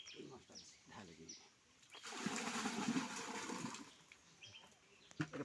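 Fish tipped out with their water into a village pond make a rushing, splashing gush lasting about two seconds, near and fairly loud, with someone talking before and after and faint birds in the background.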